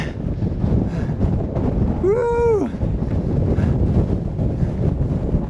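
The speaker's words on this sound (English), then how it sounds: "And it's windy." Steady wind buffets the microphone in a constant roar at the summit of Merriam Crater, with a brief whooping voice rising over it partway through.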